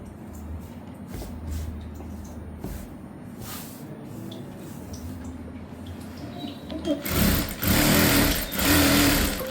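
A sewing machine stitches a prince cut blouse with a steady mechanical whir that runs in bursts, growing louder and denser toward the end, while a person speaks quietly nearby.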